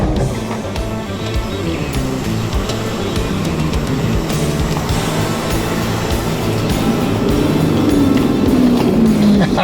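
A TJM-equipped fourth-generation Ford Ranger 4x4 ploughs through a muddy bog hole, its engine droning loud and steady throughout and rising in pitch toward the end, with no talking.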